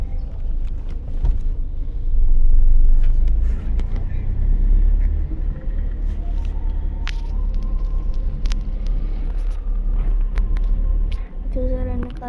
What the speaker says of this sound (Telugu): ఇక్కడ కార్స్ చాలా తిరుగుతున్నాయి.